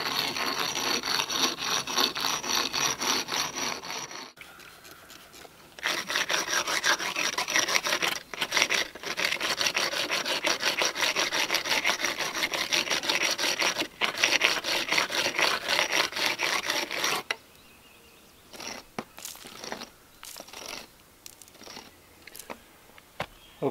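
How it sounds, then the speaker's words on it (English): A stone is rubbed over wet concrete around an outdoor timber-frame fire pit, giving a steady, close, gritty scraping that runs continuously for long stretches, then breaks into short intermittent strokes near the end. "I went all the way around this, rubbing it with the stone and just kind of wetting the concrete"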